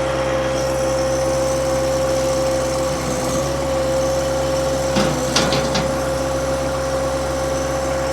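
A 2019 John Deere 1025R sub-compact tractor with loader and belly mower idles steadily with a constant engine drone, while a few sharp metallic knocks and clatters sound midway through.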